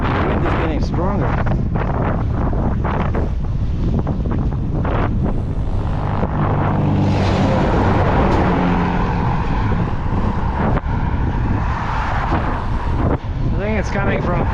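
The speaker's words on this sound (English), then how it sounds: "Man, the wind is getting stronger." Strong wind buffets the microphone while cycling a single-speed bike along Highway 566 near Calgary, Canada, a loud, steady roar with passing traffic rumbling through it and occasional speech underneath.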